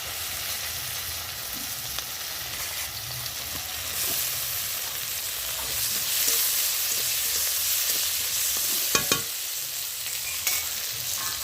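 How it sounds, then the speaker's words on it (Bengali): Fish oil frying in a pan with four chillies and chopped onion, giving a steady close sizzle with scraping and stirring strokes, a few sharper clinks near the end, no voices. "মাছের তেল ভাজবো, এর মধ্যে 4 লঙ্কা দিলাম, পেঁয়াজ দিলাম"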